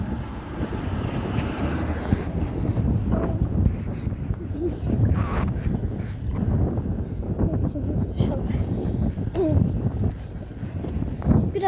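Wind buffets the microphone outdoors along a road, a steady rushing roar with gusty swells, under intermittent talking by people nearby.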